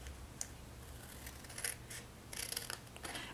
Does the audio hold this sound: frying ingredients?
no